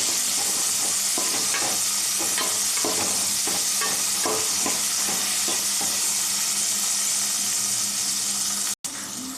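Tomatoes and onions frying in a pan, with dense continuous sizzling and a rhythmic run of spatula scrapes in the first half, close and steady, without talk.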